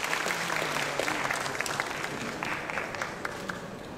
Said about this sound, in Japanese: 会場の皆様、改めて大きな拍手をお送りください。